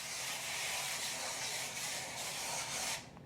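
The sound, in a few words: spraying down a pan with cooking spray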